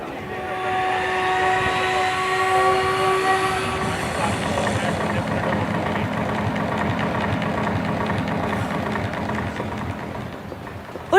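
A team of five Indian Air Force helicopters flies a display over Marina Beach for the Air Force's 92nd anniversary, making a loud, continuous rotor and engine drone with a steady whine.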